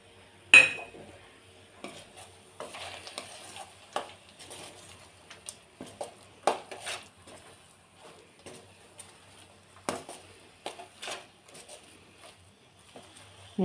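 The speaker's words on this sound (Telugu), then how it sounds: "ఇప్పుడు మనం ఇందులో మనం వేయించుకున్న డ్రై ఫ్రూట్స్ కూడా వేసుకొని కలుపుకుందాం" Fried dry fruits being stirred into a laddu mixture in a pan, with scattered clinks and scrapes of a spoon against the metal, irregular and fairly quiet, with no talking.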